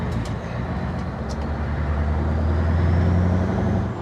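A Scania V8 truck engine rumbles loudly and steadily as the truck drives off, a deep continuous drone that swells slightly toward the end, close and alone without talk.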